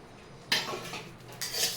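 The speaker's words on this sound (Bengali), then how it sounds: "এবার গোবিন্দভোগ চালটা দিয়ে দিচ্ছি" Gobindobhog rice tipped into a pan of ghee gives a short burst of clattering, scraping rattle, one rush followed by a second as the grains are stirred.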